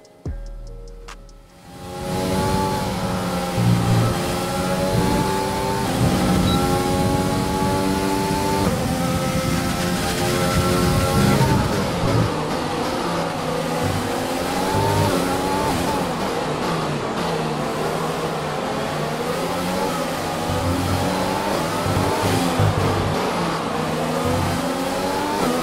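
F1 2020 race cars at the Mexico circuit in the video game scream past with high revving engines. Gear shifts step the pitch up and down while several cars overlap in a loud, continuous roar.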